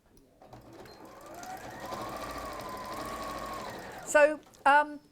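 A sewing machine runs steadily as it stitches fabric pieces together, a close, even motor whir building for about three seconds before stopping, followed by two short bursts of a voice.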